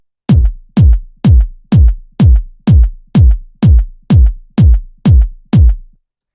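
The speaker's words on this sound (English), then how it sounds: "The kick sounds like this." A dry kick drum sample for deep minimal tech house hits eleven times in an even, steady rhythm. Each hit is punchy, loud and close, with a short decay and no other sounds.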